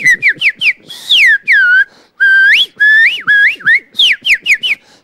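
A person whistles a lively tune of short chirps and longer sliding notes, loud and close, with brief gaps between phrases.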